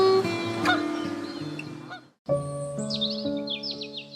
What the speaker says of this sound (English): These pre-migratory gatherings can reach thousands of individuals and transform bays into noisy bird conferences.